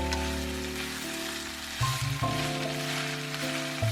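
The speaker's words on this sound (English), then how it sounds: "Then we can add the eggplant into the pan. Mix well and stir fry again." Eggplant with minced meat and Sichuan broad bean paste sizzles steadily in a hot pan, a close continuous frying hiss with scraping stirs, over soft background music.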